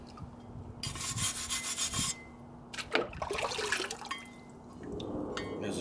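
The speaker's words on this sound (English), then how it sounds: "A little bit less scrubbing." Scrubbing a rusty Lodge cast iron skillet during restoration, with bursts of harsh rasping strokes separated by short pauses, close and fairly loud, with some water and dripping sounds in the background.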